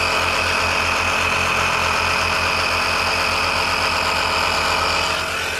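AUDEW portable tire inflator running steadily, a loud continuous motor drone with rapid rhythmic pumping pulses that holds unchanged throughout, no talking.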